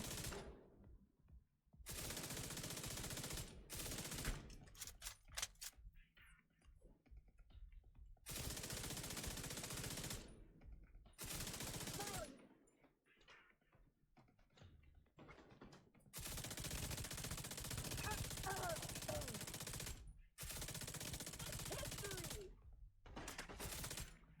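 Gunfire in The Division 2 video game: long sustained automatic bursts, loud and close, broken by short silent gaps, with a few sharper single shots between volleys.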